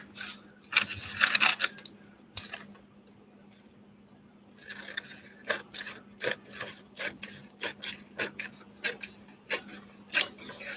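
Material being cut down for a patchwork quilt journal cover, heard as a series of close, dry rasping and rubbing bursts, a brief pause partway through, then quicker irregular strokes.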